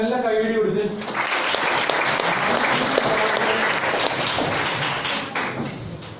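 A class audience at a motivation session bursts into sustained applause, dense clapping that swells after a brief opening voice and carries on strongly for several seconds before slowly thinning.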